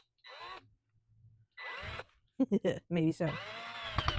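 A power drill drives screws into wood for a custom SUV sleeping platform. It makes several short whirring bursts that strain as each screw bites, loud and close, with a brief spoken remark between them.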